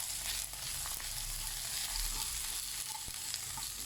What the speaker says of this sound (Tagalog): Hayaan natin medyo maluto din ang ating sibuyas.